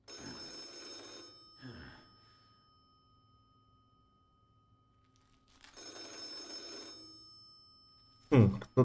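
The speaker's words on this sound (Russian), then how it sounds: "Кто-то звонит." A telephone rings in two bursts of bright electronic trilling separated by a long quiet gap, with voices and a sharp thump near the end.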